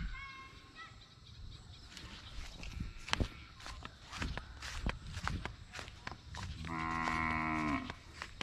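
A carabao stuck near a well lets out a drawn, tonal moo toward the end, while hooves and footsteps shuffle and thump nearby and a voice speaks faintly.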